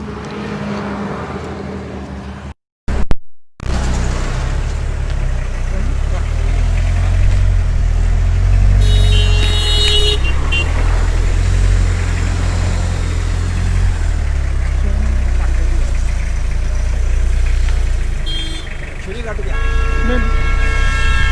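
A 1955-model American luxury car on the streets of Una, its engine rumbling steadily close by for most of the stretch, with a clear horn toot early on and bright tonal bursts later, and voices talking over it.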